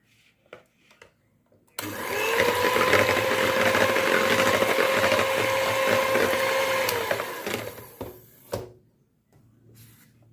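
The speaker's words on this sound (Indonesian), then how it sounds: "Kita mixer." Electric hand mixer beating cake batter in a bowl, switching on with a loud steady whine and whirr for about six seconds, then winding down amid faint clinks and light handling noises.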